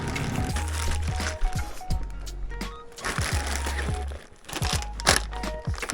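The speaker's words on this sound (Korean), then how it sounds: "비닐백에 도시락통을 넣어봅니다." A plastic bag crinkles and rustles up close as a lunchbox is slid into it while packing for a solo picnic, with soft thuds of the container between crackling bursts.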